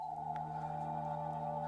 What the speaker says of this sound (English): that is the sound of the signals coming in on that frequency.